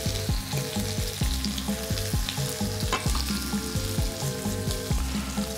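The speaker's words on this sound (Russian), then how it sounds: "на этой сковороде мы начинаем готовить наши утиные грудки" Steady, dense sizzling of duck breasts frying in a hot pan, with a low background hum and no talking.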